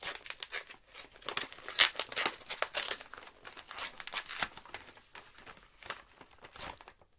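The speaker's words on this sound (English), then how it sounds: "just tearing open packages like this" A paper package envelope being torn open and crinkled by hand, with repeated close, sharp rustling and ripping bursts in an uneven rhythm, alone without talk.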